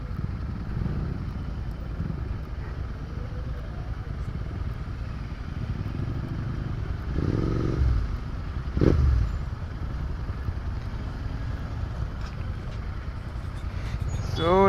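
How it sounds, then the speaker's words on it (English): Motorcycles from a club ride in Goa idling and being moved into a lineup outdoors: a steady engine rumble throughout with a few throttle swells and a clatter near 9 s, and faint voices in the background. "now it's time for us to actually go ahead and put the bikes in lineup"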